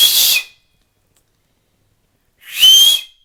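Two-finger whistle: two loud, shrill, breathy blasts close to the listener, each about half a second long, separated by roughly two seconds of silence.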